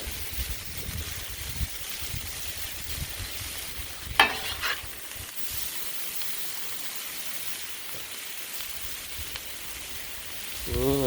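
Kielbasa, cabbage and potatoes fry on a griddle with a steady, close sizzle like light rain, broken by a brief sharp clatter midway and a louder scrape near the end.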